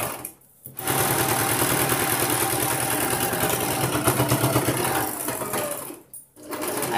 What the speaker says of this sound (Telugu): కుట్టు వేసేసేయండి ఇలాగా